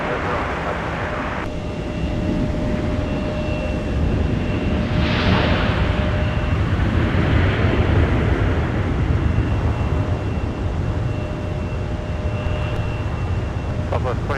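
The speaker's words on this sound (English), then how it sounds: "Beautiful landing. A330-900." An Airbus A330-900 airliner lands on the runway at Minneapolis–St. Paul airport on a winter day, its jet roar loud and sustained throughout as it passes and rolls out.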